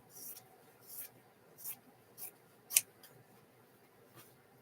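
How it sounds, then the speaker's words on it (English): Scissors snipping through lining fabric while a zipper bag is being made, a series of about six short, crisp cuts spaced roughly half a second apart, close and fairly quiet against a soft background. "I need to cut a piece for the lining"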